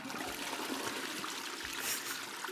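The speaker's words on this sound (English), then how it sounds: "We get to hear the toilet flushing and everything." Toilet flush in the bathroom of the horror video game Bad Summer, a steady rushing, trickling wash of water that holds evenly for a couple of seconds at moderate level, with no voices.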